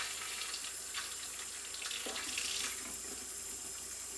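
Cold water runs from a kitchen tap into a sink ahead of scrubbing beets for pickling, a steady hiss and splatter that shifts slightly as the flow hits the basin, quiet and alone.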